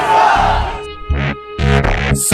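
Crowd chanting and cheering at a border ceremony in Pakistan, loud and close, surging in bursts with pauses between swells of shouting.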